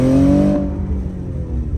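A stock 2020 Chevy Camaro RS with a 3.6 liter V6 revs hard in a short loud burst, its engine note rising then cutting back to a lower rumble from inside the car.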